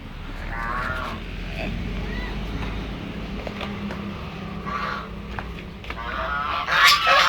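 Geese honk intermittently at a moderate distance amid steady outdoor background noise, with a louder cluster of honks near the end.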